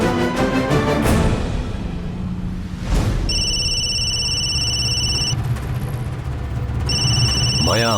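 A telephone rings in a Bengali TV drama scene: two electronic ringing bursts sound in the second half after a stretch of dialogue and mixed sound, loud and close.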